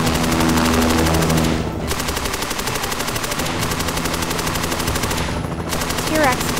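Rapid animated machine-gun fire in a cartoon dinosaur chase with a helicopter, a dense continuous burst of loud shots running for several seconds before thinning out, with no talk.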